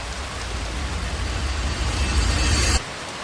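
Heavy rain falls in a dense, steady roar with a low rumble beneath, then cuts off abruptly near the end.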